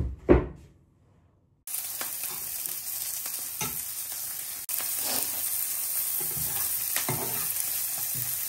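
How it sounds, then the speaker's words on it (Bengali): Two pieces of fish frying in a pan with onion and garlic, a steady loud sizzle starting after a short clatter, broken by occasional scrapes and stirs, close and continuous. "এই যে এখানে পেঁয়াজ রসুন আর এই যে 2 পিস মাছ, এটা আমি সুন্দর করে ভেজে নিতেছি।"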